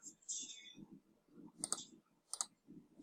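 A computer mouse clicks twice in accounting software, sharp, close, brief clicks spaced about a second apart, heard between stretches of quiet talking.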